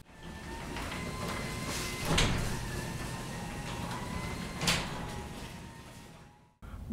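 Genie Model 1055 belt-drive garage door opener running a door through its travel, a steady motor and rolling drone with two louder clunks along the way, stopping abruptly near the end.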